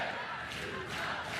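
A packed softball stadium crowd roars continuously during a tied Oklahoma versus Arizona college game, a dense wall of loud cheering and shouting that stays steady through the moment.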